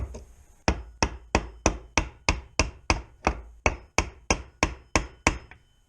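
Socket tapped with a hammer onto a part of a Polaris Trailblazer transmission: about fourteen sharp metallic taps at a steady, even pace, close and loud, with no talking.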